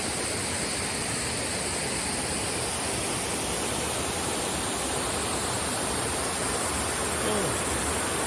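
Queen Visit waterfall at Doi Inthanon in Thailand, a steady, dense roar of falling water that fills the whole clip without pause.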